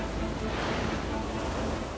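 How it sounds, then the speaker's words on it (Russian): Rough, unsettled sea surf in a bay, a steady broadband wash of breaking waves with some wind noise, continuous and fairly loud throughout with no voices. "Но море здесь неспокойное."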